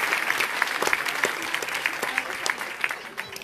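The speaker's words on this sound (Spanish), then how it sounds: "vamos a darle un aplauso fuerte a todas las luchas" Clapping from an audience at a community gathering of resistance groups in Cuetzalan, Puebla: a dense, steady applause that rolls on through the moment, fairly close, with faint voices mixed in.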